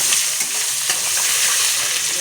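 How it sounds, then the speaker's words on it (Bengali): Onions with turmeric sizzle and crackle steadily in a hot pan, a bright continuous frying hiss with occasional stirring. "দিয়ে এখন সুন্দর করে পেঁয়াজটা ভাজা করে নেব"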